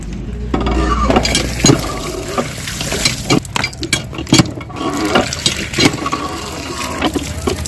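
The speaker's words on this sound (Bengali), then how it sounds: "ধুয়ে ফেলছি সবগুলা।" Cut vegetables and spices are washed with water in a bowl, splashing and sloshing in uneven bursts with handling knocks, close and fairly loud.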